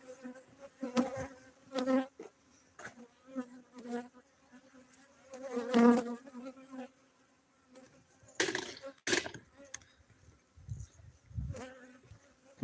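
Honeybees buzz around a beekeeper in a bee suit, their drones swelling and fading as individual bees fly close by the ear, with soft rustling in between.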